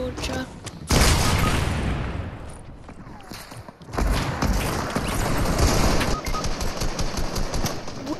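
Rocket launcher explosions in a video game, loud booming blasts with rumbling gunfire-like bursts, a heavy blast near the start and another surge midway, sustained and dense throughout.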